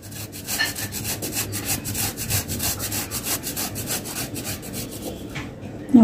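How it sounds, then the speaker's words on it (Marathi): A block of jaggery is rubbed against a kitchen grater in quick rasping strokes, a steady run of scratchy scrapes, close and fairly soft, with no voices. "इथे मी थोडंसं गूळ घेतलेला आहे, तो चांगला किसून घेऊया यामध्ये"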